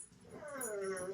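A dog whimpers indoors, giving a short, faint, high whine that rises and slides over about a second against a quiet room background.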